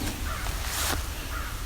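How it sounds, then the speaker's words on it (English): An American crow cawing in the background along the Bruce Trail at Cape Chin North, a few harsh caws at moderate distance over steady outdoor ambience. "There's the American crow in the background."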